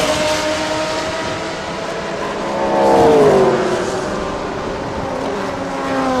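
Race cars, with an Aston Martin leading, roar along a circuit during a Thailand touring car series race; a loud continuous engine drone swells as cars pass near mid-way, then settles back.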